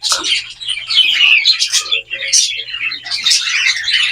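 Zebra finches chirp close by, a busy stream of rapid, high tweets and calls that runs nearly unbroken through the clip, loud and alone with only a low background hum.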